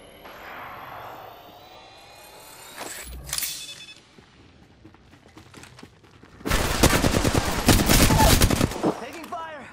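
Automatic weapon fire in Apex Legends: a sharp crack and whoosh near the middle, then a loud, sustained burst of rapid gunshots for about three seconds near the end, with no talking.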